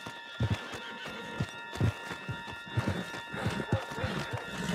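Hooves pound in a quick, uneven galloping rhythm, steady and moderately close, over a faint background hum, from a horse in the video game Red Dead Redemption 2.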